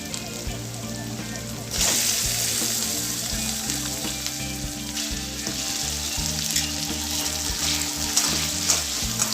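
Beef hits a hot wok with pounded ginger, garlic and green chilies for a bitter melon and black bean beef dish. A steady sizzle jumps louder as the meat goes in, then crackles on continuously and close.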